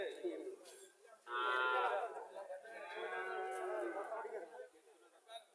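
A local desi cow at a village cattle market in Chauara bazaar, Comilla, gives two long, loud, drawn-out moos, one after the other, while voices chatter faintly in the background.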